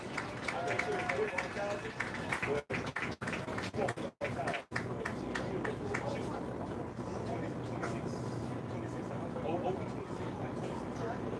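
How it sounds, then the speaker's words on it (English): A crowd applauds the senior football players at a high school football game, sustained clapping and cheering under a loudspeaker announcer, with a few brief dropouts early on. "Let's give them a big round of applause"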